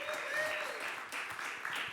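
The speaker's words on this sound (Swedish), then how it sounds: "En varm applåd." Warm applause from a jazz concert audience in Sweden, steady clapping over the whole stretch with a sustained tone lingering underneath, moderately loud and without talk.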